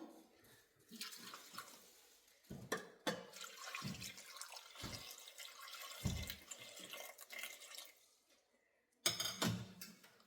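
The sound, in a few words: water being poured into pressure cooker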